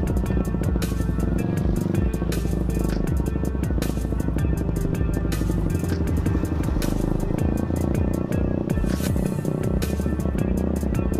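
A motorcycle engine runs loud and steady, its throaty exhaust rumbling and throbbing continuously with no talking.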